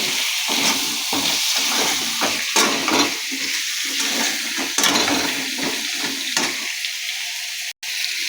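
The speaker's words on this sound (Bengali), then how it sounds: "দেওয়ার পরে এই আলুগুলো ভালো করে লাল লাল করে আমি ভাজবো।" Potatoes fry in a pan, a sputtering sizzle broken by repeated bursts of stirring and scraping, fairly close and steady, then a brief dropout near the end; no one speaks.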